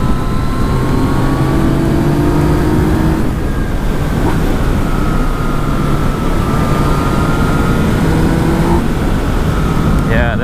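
A Yamaha MT-series motorcycle engine rises in pitch as it accelerates, heard under a loud, constant roar of wind buffeting throughout the ride.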